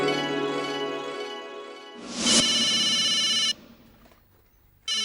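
A phone ringing over speakerphone in a lively Indian family household, a steady melodic ringtone that swells loud, runs for a few seconds, then cuts off, with no one talking over it.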